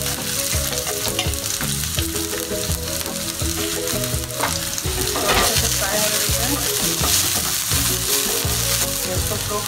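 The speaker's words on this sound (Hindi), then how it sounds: "अभी हम सरसों को डाल देते हैं, जीरा भी डाल देते हैं इसमें, हरी मिर्च और प्याज।" Mustard seeds, cumin, green chili and onion fry in hot oil, a steady loud sizzle with crackling pops running throughout, close and continuous with occasional stirring, no voices.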